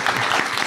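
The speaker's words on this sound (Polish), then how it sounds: "Takie gromkie brawa." An audience at an anniversary gathering breaks into loud, steady applause, a dense wash of many hands clapping without a pause.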